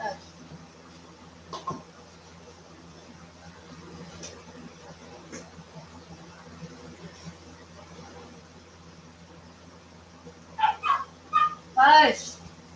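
Pet dog Freya gives a few sharp barks and high whimpers near the end, after a long stretch of quiet room noise with only faint, scattered sounds.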